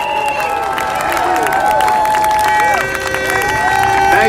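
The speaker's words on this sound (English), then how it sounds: "Let's give a big round of applause to Senator Chuck Schumer" Outdoor crowd at a Saint Patrick's Day parade in Queens, New York City, clapping and cheering amid chatter, with whistles and shouted voices rising and falling over a continuous background roar.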